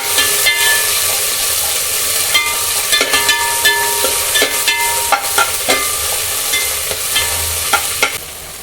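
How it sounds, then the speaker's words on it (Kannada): Onions and green chillies roast in a hot pan for fish sambar tempering, a steady loud sizzle broken by repeated scraping stirs and little crackling pops. "ಹಸಿಮೆಣಸಿನ್ಕಾಯಿ ಆದಮೇಲೆ ಈರುಳ್ಳಿ, ಈರುಳ್ಳಿ ಸ್ವಲ್ಪ ರೋಸ್ಟ್ ಆಗಬೇಕು"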